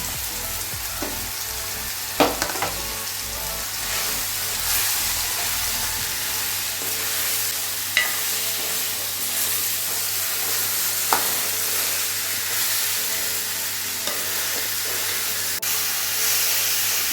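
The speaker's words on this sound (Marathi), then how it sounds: "गिलके टाकल्यानंतर त्याला थोडे चांगले फ्राय होऊ द्यावे" Chopped ridge gourd (gilki) fries in a pan with a steady bright sizzle and hiss, broken by a few sharp clinks of stirring, heard up close with no talking.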